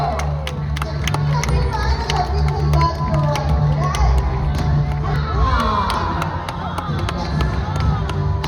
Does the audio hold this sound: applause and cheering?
yes